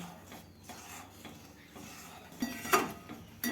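A spoon scrapes and clinks against a pot while carrots simmer in milk for carrot halwa, with soft irregular stirring strokes and a couple of sharper metallic knocks near the end, no voices.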